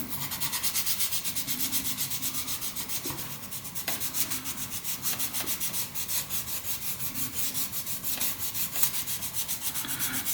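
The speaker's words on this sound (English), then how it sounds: "I'll rub down all the rings. Get a 45-degree angle going around that." Hand sanding of the rings on a Dalek model at a 45-degree angle, a close, continuous scratchy rubbing with fast repeated back-and-forth strokes at fairly even loudness.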